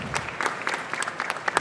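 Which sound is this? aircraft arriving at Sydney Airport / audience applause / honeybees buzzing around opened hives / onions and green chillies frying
audience applause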